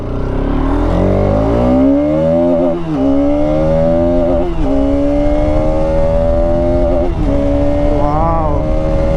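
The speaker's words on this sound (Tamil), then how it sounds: "எனக்கு ரொம்ப பிடிச்சது இந்த ரேவ் சவுண்ட் தான்." A 2025 RS200 motorcycle engine revs hard and climbs steadily through several rising pulls with brief dips between them, loud and close, with no voices over it.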